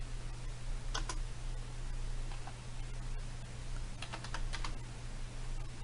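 Steady typing on a computer keyboard with short clusters of keystrokes, close and clear over a constant low electrical hum, with no talking.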